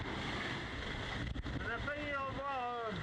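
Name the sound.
rough sea and wind heard aboard a racing sailboat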